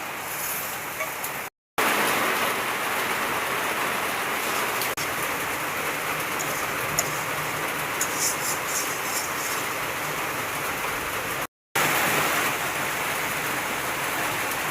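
Heavy rain pours down in a dense, even hiss on surfaces nearby, steady and loud throughout with only two brief dropouts.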